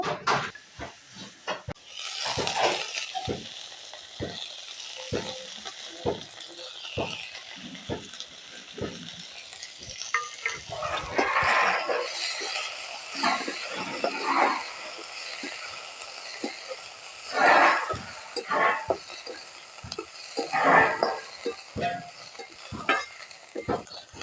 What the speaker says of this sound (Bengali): আমাদের সজনার ফুল ভাজা হয়ে গেছে,